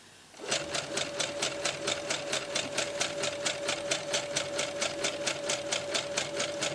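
Sewing machine stitching elastic onto a circle skirt starts up and runs at a steady fast pace, its needle clattering in an even rapid rhythm over a constant motor hum, close and alone.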